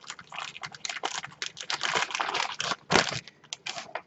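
A plastic bag holding ground flaxseed is handled up close, giving dense crinkling rustles in uneven bursts for the whole stretch, with one sharper crackle near the end and no voices.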